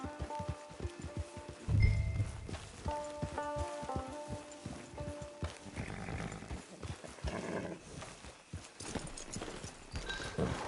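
A horse in the video game Red Dead Redemption 2 Online clip-clops at a walking pace close by, over soft background ambience and occasional low thuds, with no talking.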